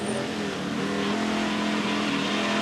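TVR Tuscan race cars roar steadily at full throttle in a 1990 race, a continuous droning engine note with no break.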